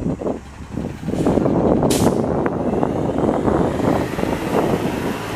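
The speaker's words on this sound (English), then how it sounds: "Look, there's a garbage truck." Garbage truck on a city street in Montreal's Plateau Mont-Royal, passing a cyclist: a loud, steady engine rumble with broadband hiss and a brief sharp air-brake-like burst partway through.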